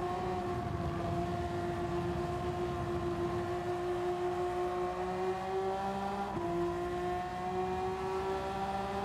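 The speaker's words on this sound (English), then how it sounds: "This V6 engine is just glory to hear, especially when you are banging through those gears." Honda Castrol Mugen NSX GT3 race car with a V6 engine in the video game Gran Turismo 7, droning steadily near and loud with a brief dip as it shifts gear, no talk over it.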